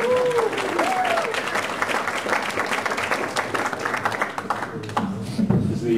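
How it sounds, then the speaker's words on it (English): Audience applause greeting a speaker at a talk on cloud computing, a steady wash of clapping from a crowd filling the room for about six seconds, with a few voices calling out over it near the end. "let's welcome him with a big round of applause, Brian Beecher."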